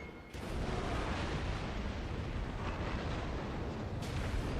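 Torpedo hits on a Fuso battleship in the naval game World of Warships, a sudden heavy blast that opens into a dense, sustained roaring rumble, loud and continuous with a second swell near the end.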